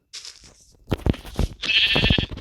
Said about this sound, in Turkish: Şurada bir koyun daha var.